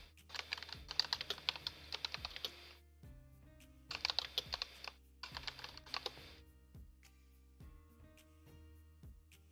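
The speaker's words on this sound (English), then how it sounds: "hearing me typing on my keyboard" Close, crisp typing on a computer keyboard, coming in bursts of rapid clicks with short pauses between them, and no voices.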